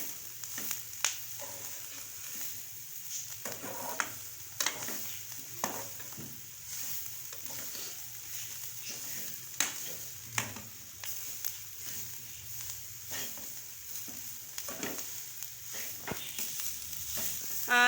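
Shredded cabbage stirred and fried in a pan as filling for chicken kachori. A faint, steady low sizzle runs under frequent soft spoon taps and scrapes, with no one speaking.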